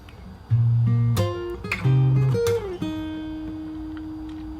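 Fingerstyle acoustic guitar plays a tricky bar, bass notes with sharp percussive slaps between them, then a sustained ringing note, close and clear with no talk.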